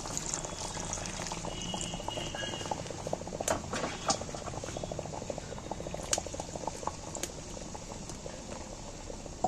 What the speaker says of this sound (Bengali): একটু উষ্ণ গরম জল দিয়ে দিচ্ছি